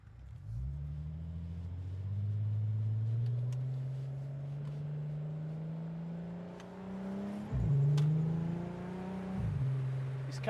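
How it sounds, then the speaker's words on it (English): A six-cylinder non-turbo car engine drones while driving through Brisbane streets, rising steadily in pitch through a gear, then dipping and climbing again with each shift, close and continuous with no talking. "This car does sound good."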